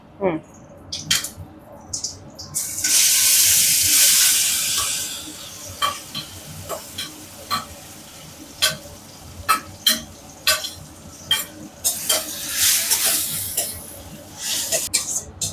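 Mango pieces stirred in a frying pan with mustard seeds and asafoetida, giving a loud hissing sizzle early on followed by repeated scraping stirring strokes.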